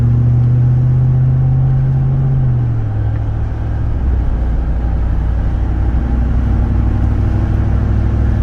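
Inside a Ram TRX with an AWE exhaust driving in traffic, with the top and rear window partly open: a loud, continuous low engine drone that eases down in pitch, mixed with road and wind noise.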